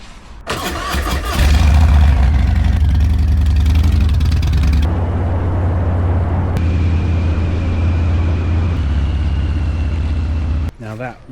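A motorbike engine starts with a short crank, then idles and runs steadily, loud and close, with a low rumble throughout before cutting off near the end.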